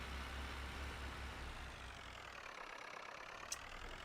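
A Ferguson tractor engine idles in Farming Simulator 19 with a steady, even low rumble that holds for the whole stretch, with no talk over it.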